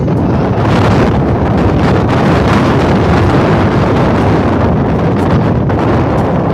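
Strong wind roars steadily against the microphone at Malico in the Philippines, a loud continuous buffeting rush with no voices.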